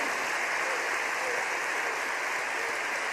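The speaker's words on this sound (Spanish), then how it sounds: "Vamos a darle un gran aplauso." A church congregation applauds during a Spanish-language sermon, a steady dense wash of clapping that holds evenly throughout at moderate level, with no break and no talk over it.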